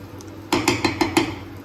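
A utensil strikes a pot of homemade fried rice as it is mixed: five sharp, evenly spaced metallic clinks close by, with a quiet pause before them.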